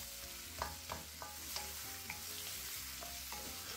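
Chunky potatoes fry over a medium-high flame in a steady, fairly quiet sizzle, with a few soft stirring clacks rising briefly above the constant crackle.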